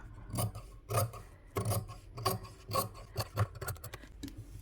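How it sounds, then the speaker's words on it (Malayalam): Scissors cutting the fabric at the neck of a Dubai-style nighty, a series of close, crisp snipping and rasping cuts in an uneven rhythm, alone without talk. "ഇനി ഒരു കാലിഞ്ച് വിട്ടിട്ട് കട്ട് ചെയ്ത് കൊടുക്കുക"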